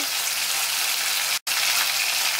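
Chopped onions and peppers frying in hot oil in a pot over medium heat, a steady close, hissing sizzle with one brief dropout partway through.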